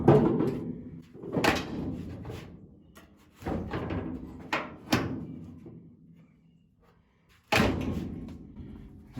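The steel hood of a 1950 Chevrolet 3100 pickup truck is lowered and latched. Several sharp metallic thumps and clunks sound close by, with quieter rattles between them and no talk.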